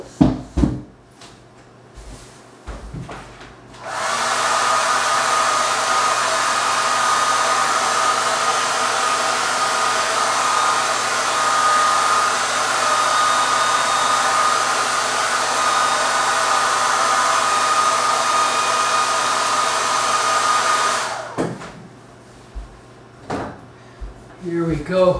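Hair dryer blowing steadily for about seventeen seconds to dry a watercolour painting of a face, a loud continuous whooshing roar that switches on and off, with brief handling clicks and light talk before and after.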